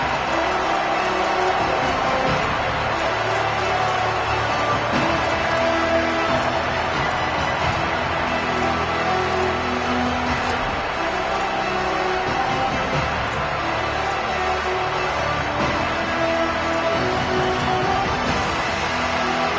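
Football stadium crowd at an Oregon game, a broad steady roar of many voices filling the whole stretch, dense and continuous with swelling noise and no single voice standing out.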